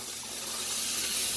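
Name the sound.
chicken searing in a pan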